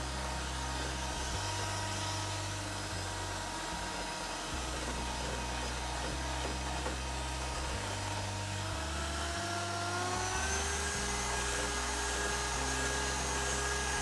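An electric mixer creams ingredients in a kitchen, giving a loud, continuous motor whine close up that steps between speeds, with its pitch rising near the end and no talking.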